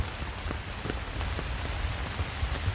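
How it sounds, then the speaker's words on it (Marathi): Steady rain falls on a muddy farm path, a continuous soft patter of drops without pause, moderately quiet. "इकडे पाऊस पडतोय ना आज म्हणून"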